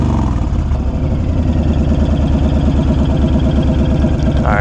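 A 2020 Honda Fury motorcycle fitted with a Cobra fi2000 tuner idles close by, its engine a steady, loud, evenly pulsing rumble that holds throughout with a slight rise in pitch near the end.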